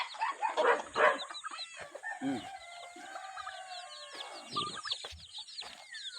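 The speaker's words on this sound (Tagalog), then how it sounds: "Pati itong ating mga alagang manok" Backyard chickens cluck and chatter close by, with busy overlapping calls, sharp squawks and a faint crow-like note over a quiet farmyard background.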